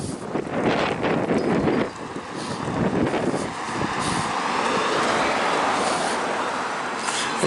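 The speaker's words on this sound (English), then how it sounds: "construction trucks." Construction trucks roll past on a roadside during a walk, their broad engine and tire rumble swelling and fading under heavy wind buffeting at the microphone.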